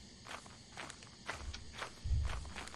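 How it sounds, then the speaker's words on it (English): Footsteps of a large creature in the video game Lethal Company, a series of soft, irregular thuds crossing the scene and growing heavier and closer toward the end, with no talking over them. "I hear footsteps."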